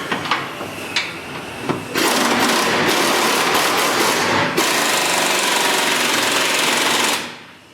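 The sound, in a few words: tightening fuel tank bolt with 15mm wrench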